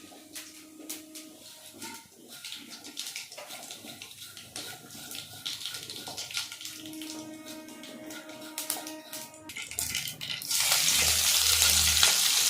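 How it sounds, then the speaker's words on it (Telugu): Tempering seeds for an egg curry hit hot oil near the end, where a loud burst of crackling sizzle swells up after a stretch of clinking, scraping and faint tonal kitchen noises. "ఇప్పుడు మనం పోపు గింజలు వేసుకుందాం"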